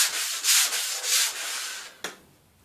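Close, rhythmic rasping strokes of sandpaper rubbing across wood, several back-and-forth passes ending with a short sharp scrape.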